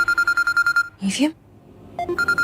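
A phone ringing in a Hindi TV drama: a repeated electronic trill in short evenly spaced bursts, broken partway by a brief voice, then the same ring resuming loud and close.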